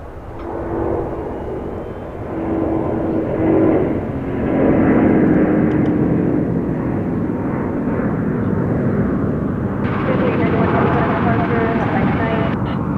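A Fiji Airways airliner at DFW Airport after dark gives a loud, rumbling jet engine roar that swells and holds, with someone talking over it.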